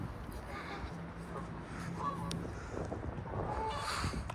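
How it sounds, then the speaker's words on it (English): A goose honks a few times outdoors during a walk, moderately distant and mixed with ambient noise and a soft voice. "We got the goose over here."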